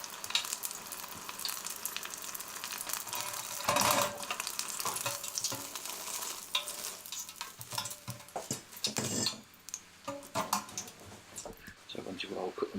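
Pork pieces deep-frying in hot oil in a basket, a steady loud sizzle with bursts of bubbling and occasional stirring and clicking noises.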